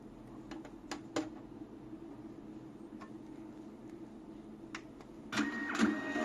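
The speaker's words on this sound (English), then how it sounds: "The print test will coming out." A network receipt-style printer running its self test, with scattered sharp clicks and ticks over a low hum before a louder burst of mechanical printing near the end, close and quiet, no speech.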